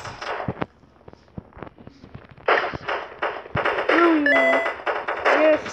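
Video game gunfire crackles in scattered bursts of sharp cracks, sparse at first and then denser, with a player talking over parts of it and brief electronic tones near the end.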